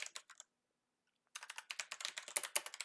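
Quick keystrokes on a computer keyboard come in two close bursts of typing while Python code is written, separated by about a second of silence, crisp and fairly quiet.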